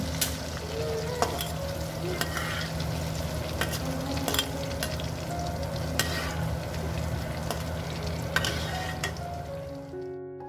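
Shrimp paste (terasi) and chili spice paste fry in a pan in a home kitchen, with a steady close sizzle and repeated sharp scrapes and taps of a spatula stirring, and no talking.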